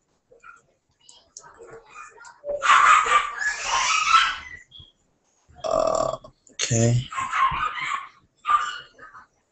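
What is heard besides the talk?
dogs barking and fighting outside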